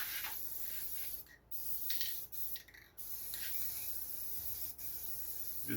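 Aerosol dye sprayed onto interior panels of an older Chevy, a steady close hiss in several bursts separated by short pauses as the can is passed over the surface.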